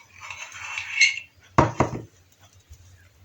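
Butter, cold from the fridge and still firm, mixed into Turkish Biskrem biscuit ingredients in a bowl: soft scraping at first, then a sharp clatter of utensil against the bowl, followed by a few faint knocks.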